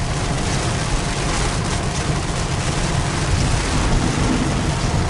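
Steady rain drums on a car during a slow drive through a riverside neighborhood near the barge port in Palatka, Florida, a dense continuous wash of droplets and road noise with no talk.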